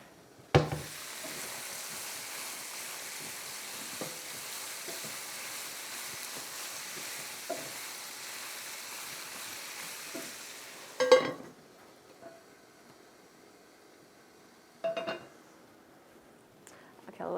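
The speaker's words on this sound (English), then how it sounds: "Our stuff is frying over here." Food sizzles steadily in a pan, a constant hiss that stops abruptly, with occasional clanks and scrapes of a utensil against cookware.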